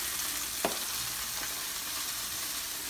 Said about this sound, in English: Now it's gonna sear up. Look at that. Just olive oil.